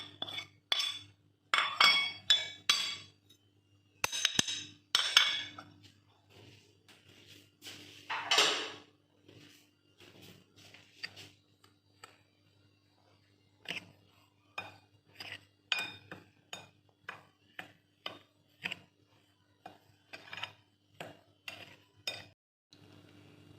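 Kurkure ingredients are stirred in a steel bowl, with a spoon repeatedly clinking and scraping against the metal in irregular bursts, close and clear, with short pauses between strokes.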